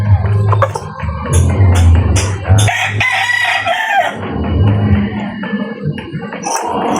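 A gamecock rooster crows loudly close by, mixed with throaty clucks and other fowl calls in a busy yard.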